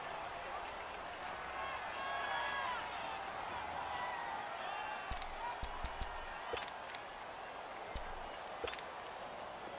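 Stadium crowd in the Madden NFL 19 football video game, a broad steady roar building ahead of a big third down, with scattered sharp claps and thumps later on, moderately loud.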